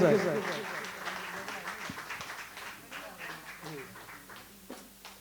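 An audience at an orchestra performance applauds after a song, the clapping fading gradually under close speech.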